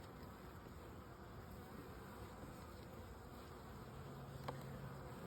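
Honey bees buzzing around an established hive during an inspection, a steady faint drone throughout with no talk.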